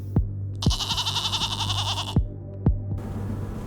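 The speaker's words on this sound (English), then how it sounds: "Mythical goat." A goat gives a loud, wavering bleat lasting about a second and a half, close by, set among a few sharp knocks and a low steady hum.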